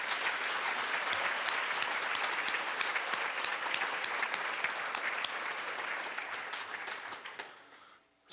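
Audience at a scholarship and awards banquet applauds nursing students with sustained, even clapping that fades out toward the end, leaving near silence.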